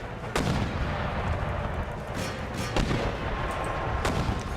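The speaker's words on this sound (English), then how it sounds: "Garrison mortars are just so good." Mortar artillery fire in Empire Total War during a garrison battle, a steady rumbling backdrop of battle noise broken by several sharp booming shots spaced a second or so apart, moderately loud.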